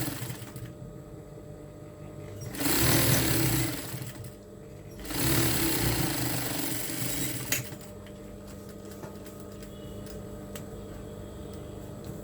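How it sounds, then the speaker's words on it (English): A sewing machine stitches the band of a cap in two bursts a few seconds each, with a quieter mechanical hum between and after them, heard close by. "We start sewing."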